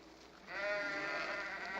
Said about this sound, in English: Oh, just some sheep being loaded.